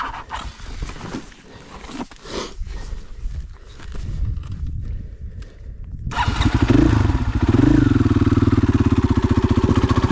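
A motorcycle climbs a steep, rutted hill, its engine sputtering and revving unevenly at first, then surging into a loud, sustained close-up drone as it pulls hard up the slope.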